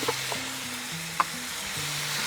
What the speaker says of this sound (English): So now we're gonna add in 1 cup of diced onions.